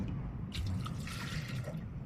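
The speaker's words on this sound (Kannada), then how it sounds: "ನೆಕ್ಸ್ಟ್ ಒಂದು 2 ಲೋಟ ನೀರು ಹಾಕ್ಕೊಳ್ಳಿ" Two glasses of water go into a cooking pot while rice and sambar are made, with a soft, fairly faint splashing pour of about a second over a low kitchen hum.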